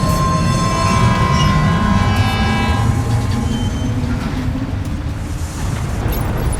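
Train ride in the video game Death Stranding 2: a loud, steady rumbling roll of the train with sustained horn-like tones that fade after a few seconds, continuous throughout.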